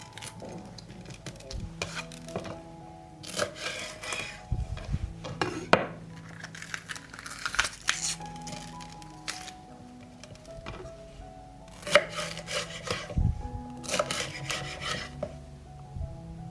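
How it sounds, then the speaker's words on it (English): Peppers have their stems and seeds cleaned out and are cut into fillets, giving close scraping, rubbing and knife-on-board taps in irregular bursts with brief pauses, no talking. "I will clean the stems and seeds from the peppers and cut them into fillets."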